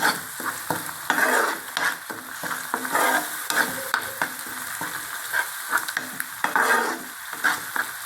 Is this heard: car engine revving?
no